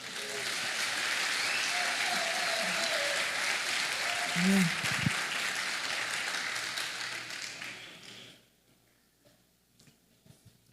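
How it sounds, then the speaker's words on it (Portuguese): Loud, sustained applause from a church congregation with a voice speaking over it, fading out abruptly into near silence. "Você pode aplaudir ao Senhor?"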